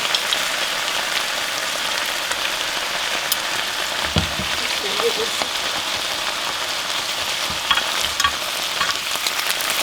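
Ground meat and garlic for sloppy joes sizzle steadily in a pan, with a broadband frying hiss and occasional soft scrapes of stirring, fairly close and continuous.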